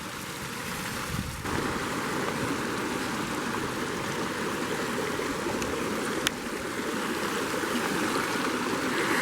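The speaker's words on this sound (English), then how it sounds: "here we are at the waterfalls" A waterfall on a hiking trail gives a continuous broad rushing roar, steady and moderately near, with no talk.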